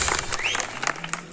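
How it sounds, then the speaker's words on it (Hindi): Audience clapping for the police at a comedy show at a livestock market and farmers' fair in Namhol, Bilaspur; a brief burst of scattered, moderately loud applause. "पुलिस के लिए जोरदार ताली हो जाए यार"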